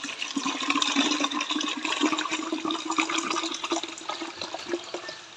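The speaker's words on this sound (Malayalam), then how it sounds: "കുപ്പിക്കകത്ത് വെള്ളം എടുത്തിട്ട് അതുപോലെ ഈ ഒരു ഇതിനകത്തോട്ട് ഒഴിക്കുക." Water pours from a bottle into a bowl in a continuous splashing, gurgling stream that stays fairly close and steady, easing slightly toward the end.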